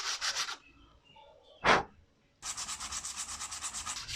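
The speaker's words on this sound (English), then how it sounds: "I just want to sand that down" A dried craft piece gets its edges sanded by hand, with two bursts of close, rhythmic rubbing strokes separated by a short pause and a single louder scrape.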